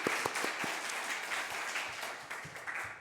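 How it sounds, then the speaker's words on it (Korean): A church congregation at a Wednesday worship service claps together, with a few sharp, close claps at the start over softer, sustained clapping that fades somewhat toward the end. "우리 하나님께 영광의 박수 한번 올려드리겠습니다."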